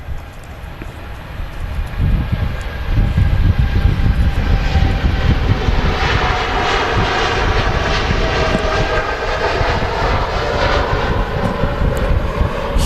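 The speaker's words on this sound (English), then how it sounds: "And Dreamliner on the takeoff." A Boeing 787 Dreamliner takes off at Manchester Airport, its jet engines a loud, sustained roar that swells after the first couple of seconds and holds steady, heard from the ground with no talking.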